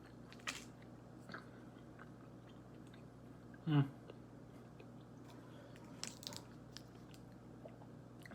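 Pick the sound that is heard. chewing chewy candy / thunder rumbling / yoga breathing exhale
chewing chewy candy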